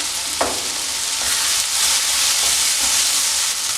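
Soya chunks roasting with curry leaves in a hot pan give a loud, continuous sizzle and hiss, with a few faint stirring scrapes breaking through.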